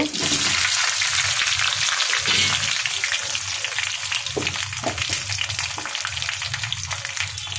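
Sliced eggplant frying loudly in hot oil with black cumin and green chillies, a dense continuous sizzle with occasional spatters and stirring bumps throughout.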